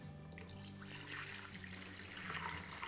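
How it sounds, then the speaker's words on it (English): Beef stock pouring steadily through a cheesecloth-lined strainer into a bowl, a continuous soft splashing trickle heard up close with no talking. "We're going to do a fine strain on this"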